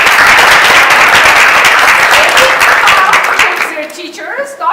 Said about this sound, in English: we want to clap for them